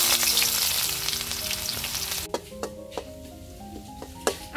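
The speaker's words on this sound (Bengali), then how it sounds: "আমি পেঁয়াজ বেরেস্তাটা খুব সুন্দর করে ভেজে নিচ্ছি" Onions frying in oil in a wok for crispy fried onions: a loud, dense sizzle that suddenly drops to a quieter crackle, with a few sharp taps of a spatula against the pan and light clinks.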